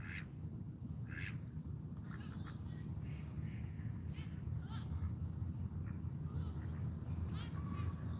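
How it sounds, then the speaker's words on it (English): Ducks quacking near a pond where people feed them bread, a few short distant quacks over a steady low outdoor rumble and insect hum. "I hear like a duck with a bell on it."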